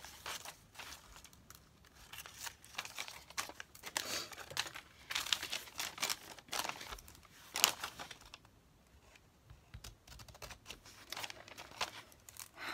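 Scissors cut through glossy magazine paper, with close, quiet snips and crinkling rustles in irregular bursts, fading briefly before resuming.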